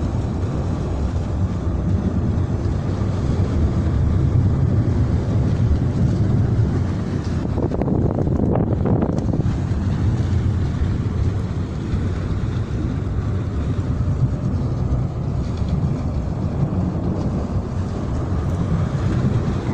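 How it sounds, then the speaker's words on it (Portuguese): The cargo ship Ilha da Madeira's propeller churns water as it docks at Parque Norte, a steady, heavy low rumble with wind buffeting throughout and a brief swell in the middle. "dá para vocês escutar o barulho que a hélice está fazendo ali na água"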